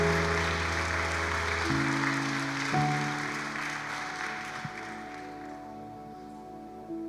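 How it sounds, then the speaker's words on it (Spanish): A church congregation gives a warm round of welcome applause, a broad hiss of clapping over sustained keyboard chords that shift a few times, gradually tapering off. "démosles otro fuerte aplauso de bienvenida"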